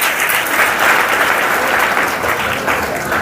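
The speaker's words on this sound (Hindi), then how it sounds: "ताली बजा के प्रभु के नाम का महिमा करें।" A congregation at a Hindi church sermon claps in steady, dense applause that fills the room loudly and evenly throughout, with no voices standing out.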